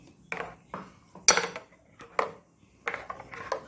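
A spoon scrapes and clinks against a pot while ground mango paste is stirred in for tambuli, giving a handful of short, separate metallic taps and scrapes close by with quiet gaps between them.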